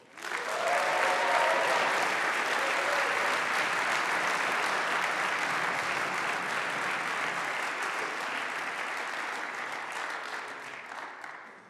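A large audience claps steadily to welcome a college football coach at a chapel gathering, a dense, sustained roar of applause that swells quickly, holds for about ten seconds, then tapers slightly at the end.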